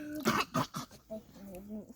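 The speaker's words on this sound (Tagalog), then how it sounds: "Ako hubok-hubok." A few close, quick coughs in a burst, followed by a brief voiced sound, fairly quiet overall.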